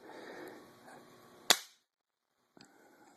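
A single sharp, loud metallic snap of an AR-15 hammer dropping on a dry-fired trigger in an assembled lower receiver, standing out from soft room noise, followed by silence and a couple of faint clicks.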